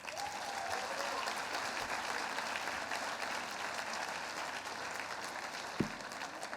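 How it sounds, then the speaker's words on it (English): Steady audience applause fills the room at a welcome dinner for an enshrinement weekend, sustained and dense throughout with one sharp thump near the end. "Can we also have a round of applause for Judy Teagart Dalton and Nancy Ritchie?"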